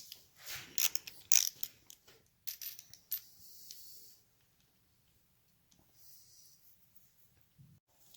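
A socket wrench ratchets on the transmission of a 1975 Norton Commando Mk3 under restoration: quick bursts of close ratcheting clicks, then soft breathing and faint mechanical handling in a quiet workshop.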